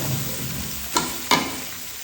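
Pieces of amra (hog plum) tipped into a hot pan for a sweet-sour-spicy pickle, a steady oil sizzle broken by two brief clattering splashes close up, no voices.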